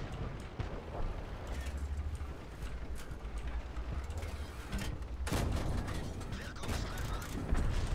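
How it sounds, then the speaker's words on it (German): In World of Tanks, the gun of a Škoda T 25 medium tank reloads with a run of mechanical clanks, creaks and ratcheting clicks over a low rumbling background, then a sudden loud, harsh burst cuts in. "Ich lade nochmal nach."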